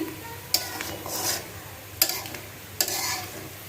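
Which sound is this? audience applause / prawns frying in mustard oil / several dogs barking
prawns frying in mustard oil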